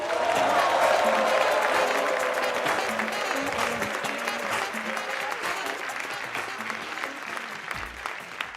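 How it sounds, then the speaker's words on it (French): Sustained applause from a large comedy-show audience, loud and dense throughout, with a few cheers mixed in and steady clapping that slowly eases off. "Sous vos applaudissements."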